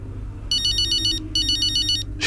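A phone ringtone in the racing video game F1 23 chirps in two bright electronic bursts with a brief gap between them, over a low steady background hum.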